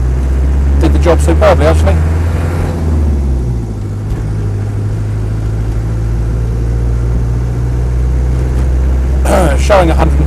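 A Land Rover 90 with a 2.5 diesel engine pulls away, its low, steady engine drone rising into a strong rumble that runs throughout, with someone talking over it at the start and end.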